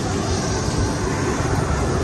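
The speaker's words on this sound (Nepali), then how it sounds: "प्लेन आएछ नि त" A passenger airplane arrives at Biratnagar airport, a broad continuous engine roar that holds steady and loud throughout.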